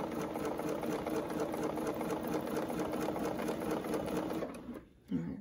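Sewing machine quilting along a ruler template, a fast, even stitching drone held close and steady for several seconds, then stopping abruptly with a brief handling thump at the end.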